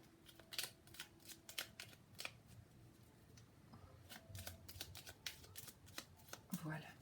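Small tarot deck being shuffled by hand, a series of quick crisp riffles and card slaps in short bursts, close and quiet, with a soft voice speaking in between.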